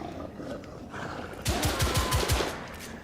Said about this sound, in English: I can't even shoot it